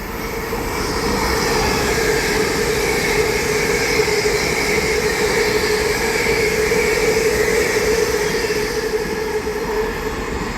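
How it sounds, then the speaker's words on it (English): An LNER passenger train passes through Doncaster on the East Coast Main Line, a steady, loud rumble of wheels and carriages rolling by close at hand for the whole stretch, with no voices. "Passing by now, we have an LNER service."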